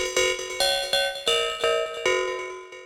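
A hypnotic, dissonant synth preset called Hypnotize from Arpeg Radiant in a techno sequence, producing bright, metallic bell-like plucks repeating in a steady, fast rhythm, each note ringing briefly with clangy overtones.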